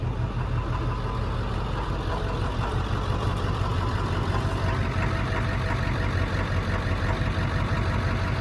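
A diesel Ford F350 pickup truck engine idles steadily up close with a newly installed muffler, a continuous low rumble with a deep throb that holds even throughout; engine louder than exhaust.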